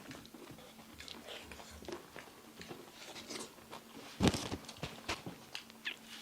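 Chewing and crunching on fuchka during a mother-and-son eating challenge, soft wet bites and mastication close up with one sharper crunch, over faint room noise.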